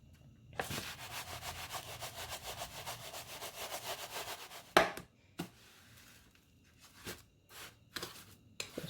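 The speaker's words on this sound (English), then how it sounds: "Just want to make sure it's nicely coated with the breadcrumbs." Chicken fillet pressed and rubbed into breadcrumbs gives a continuous gritty scraping for several seconds, then a sharp knock and a few short, scattered crunchy rubs, close by with no talking.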